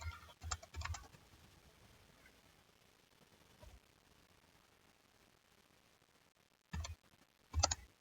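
Computer keyboard typing while writing code, faint and sparse: a couple of short key bursts near the start, one isolated tap midway, then two quick clusters near the end over a quiet room.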